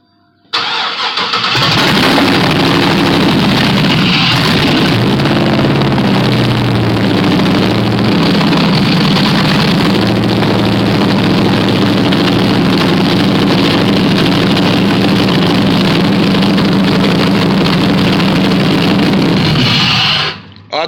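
An LS 6.0 V8 swapped into a 1969 Firebird cranks and starts, then runs loud and close with a steady, rumbling idle for about eighteen seconds before shutting off.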